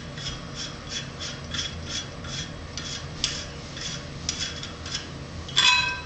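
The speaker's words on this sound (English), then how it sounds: "to take the tray off, if you wanted to, you could unscrew this" Tray being unscrewed from a 21-inch black and blue hookah, giving a rhythmic series of light metallic scraping and grinding turns, close and fairly quiet, with a sharper clink near the end.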